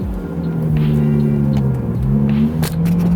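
Nissan 350Z engine droning and revving steadily up close, a continuous loud rumble with pitch rising and dipping, a brief sharp click near the end.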